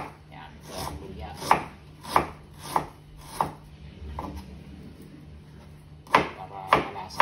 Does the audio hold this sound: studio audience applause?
no